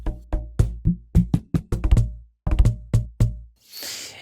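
A cajon recorded with a LOM Geofon geophone blended with an H5 recorder, beaten in a quick, uneven pattern of deep thumps and sharper slaps, close and dry, ending in a short burst of hiss.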